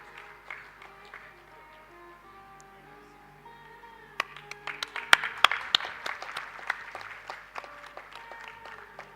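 Scattered clapping rises from an audience at the AYUR 2025 international conference oration. Sharp, separate hand claps build into a loose, moderately loud round after a quieter stretch of room noise and faint speech.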